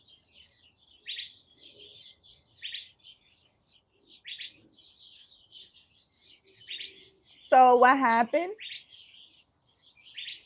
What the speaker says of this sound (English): Wow, the birds. Can you guys hear them? They got really loud.